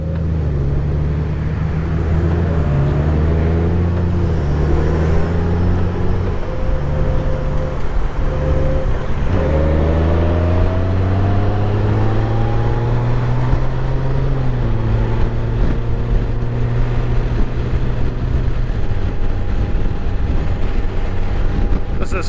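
A 2023 Honda Gold Wing six-cylinder motorcycle hums steadily while riding, its engine note rising and falling through gear changes under continuous wind and road noise, close and unbroken throughout.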